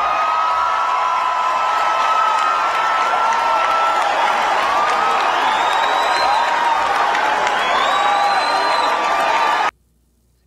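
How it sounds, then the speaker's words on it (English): A large crowd cheers and applauds loudly and continuously, a dense wash of voices with occasional whistles and whoops, then cuts off abruptly near the end. "These Negroes was actually cheering for this."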